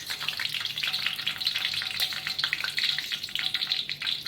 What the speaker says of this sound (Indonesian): Sekarang mau goreng bakwannya satu persatu.